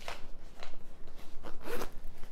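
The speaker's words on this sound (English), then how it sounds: "Zip it closed" Zipper on an MZ Wallace Mini Gramercy crossbody bag being pulled shut in a few quick, raspy strokes, close and clear, with no talking.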